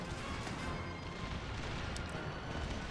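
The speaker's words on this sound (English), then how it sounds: "Dragoons, fire at will." Dragoons fire muskets in the Empire Total War strategy game, a dense continuous crackle and rumble of battle gunfire with no clear single shots, steady and fairly distant throughout.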